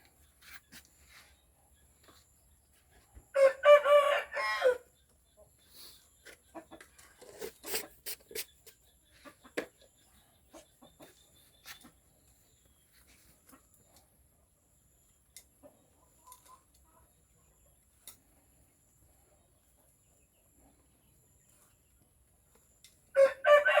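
A rooster crows loudly nearby, once early and again at the end, with scattered clucks and rustling in the quiet stretch between.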